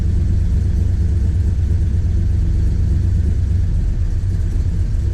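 A 1965 Plymouth Satellite engine, fully warmed up, running at a steady idle off the gas, a loud, close, continuous low rumble with an even, unbroken drone.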